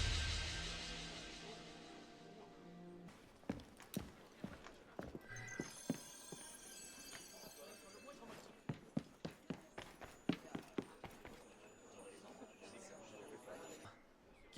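Horse hooves clip-clop on the grounds of the Palace of Versailles in Assassin's Creed Unity, a run of sharp, fairly close hoofbeats in an irregular walking rhythm, with voices talking now and then.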